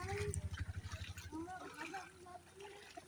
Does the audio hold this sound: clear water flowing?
yes